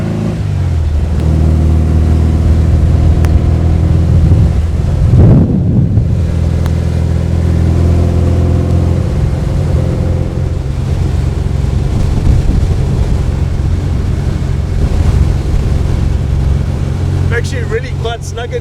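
Engine of a 1955 Porsche 550 Spyder replica under way, a loud steady low drone with a brief swell of revs, wind buffeting and people talking over it.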